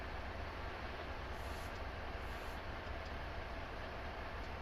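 Freight train in a train simulator game rolling on rails at line speed, a steady low rumble and hiss with faint clatter, continuous and moderately quiet, no speech.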